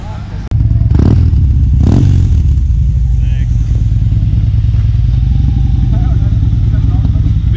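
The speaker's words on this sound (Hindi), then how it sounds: "कम ये चारों एक साथ लगाने हैं बाइक्स।" Four motorbikes, superbikes, start up together and settle into a loud, steady idle rumble, with a couple of sharp revs early on.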